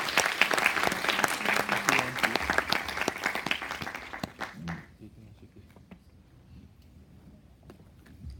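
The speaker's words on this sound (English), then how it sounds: "give a warm applause to Tan Sri" Warm applause from a conference audience at a healthcare financing panel, dense clapping with crowd noise for about four seconds before fading into a quiet room with faint shuffling.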